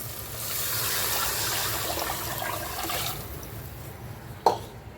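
Water poured into a pan of sautéed kulith (horse gram) flour mixture, a continuous moderate splashing pour lasting about three seconds, then quieter trickling and a brief clink near the end.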